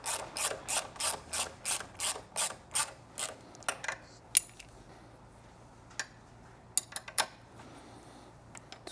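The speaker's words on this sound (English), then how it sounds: "12mm wrench." A 12mm ratcheting wrench clicks in a quick even run of about a dozen strokes on a bolt of a Shorty Predator Pro exhaust on a Triumph Street Twin, then slows to scattered clicks and clinks, close and unaccompanied by talk.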